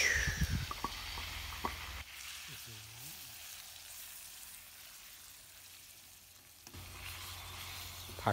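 Pork is stir-fried in a hot pan. A sharp sizzle bursts at the start, a quieter stretch follows, and the frying swells again near the end.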